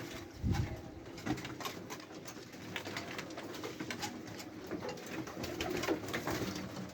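White pigeons in a pigeon loft coo repeatedly in soft, throaty overlapping calls, with faint rustling and movement around them and no talking.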